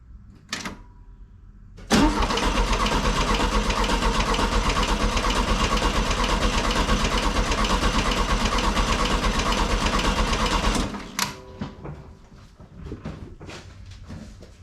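A 1967 Volkswagen 1500cc air-cooled engine cranks steadily for about nine seconds during a compression test, a loud, even starter-driven churn that stops abruptly, followed by quieter clicks and shop noise.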